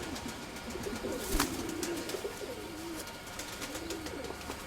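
Loft pigeons coo in low, rolling, repeated phrases that run steadily throughout, with a brief rustle or clatter partway through.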